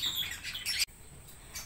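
Small caged birds chirp in rapid, high, bright bursts, close by, in front of a garden aviary. A short break follows, then the calls resume faintly.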